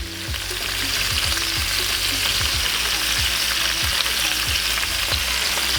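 Chopped yellow onions fry in a cast iron pan, giving a loud, steady, close sizzle with a soft rhythmic ticking beneath it.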